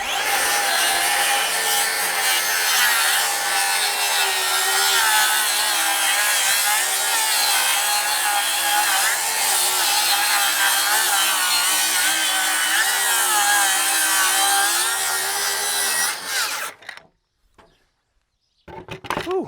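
A Milwaukee rear handle circular saw rips through wood on a 45-degree bevel cut, a loud, sustained whining buzz that holds steady for most of the clip, then cuts off and winds down, followed by brief quiet and a few clunks.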